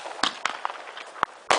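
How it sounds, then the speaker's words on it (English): Firecracker-style fireworks going off in the dark, five sharp crackling pops in quick irregular succession, fairly close and loud with no talk. "I like big fireworks again."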